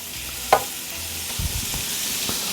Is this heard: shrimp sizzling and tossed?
yes